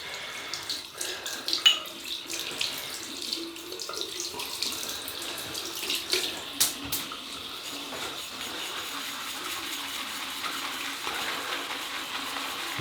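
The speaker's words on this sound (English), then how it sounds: "So anyway, we wet the brush." A tap runs steadily into a sink to wet a shaving brush before lathering a wool fat shaving soap, a close hiss of flowing water with a few splashy bumps early on.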